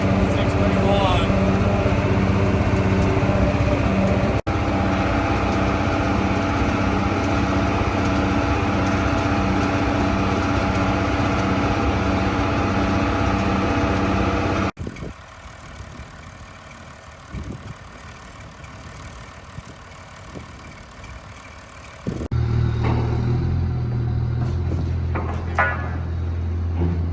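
Engine of a farm vehicle hauling a new auger and grain cart home, a steady loud drone with shifting tones that drops in level midway before rising again.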